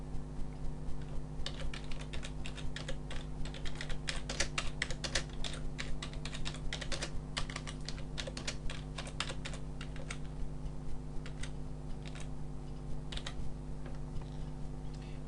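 Someone types a text message on a computer keyboard: a steady stream of quiet, close key clicks in quick irregular runs over a faint constant hum, with no speech.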